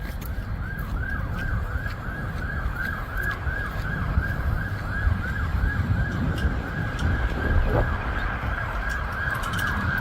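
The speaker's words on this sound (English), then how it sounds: "Are they coming here with sirens?" Emergency vehicle sirens wail continuously for the whole span, a steady rising-and-falling pattern of moderate loudness over low rumbling street and traffic noise, with no clear talk.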